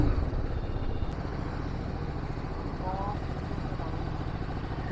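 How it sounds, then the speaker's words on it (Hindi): A BMW G 310 GS motorcycle on a test ride, its engine a steady, close rumble mixed with continuous road and wind noise, with no clear pauses throughout. "So right now we are taking a test ride for BMW 310"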